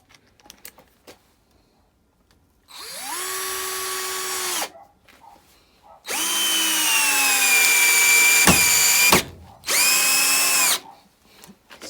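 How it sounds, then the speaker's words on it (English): A Raitool 48VF cordless drill in low gear drives a 100mm screw in three loud, close bursts: a steady whining motor with gear hum and the screw grinding into the material, separated by short pauses with faint clicks. "So I'm going to test it in the low gear first. See if we can get this here, this 4-inch screw or 100mm."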